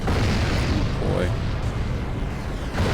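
Aerial bombardment explosions in Ratchet & Clank Future: Tools of Destruction as a sky bridge collapses. A loud, dense rumble of booms runs for the whole stretch, partly under a spoken voice.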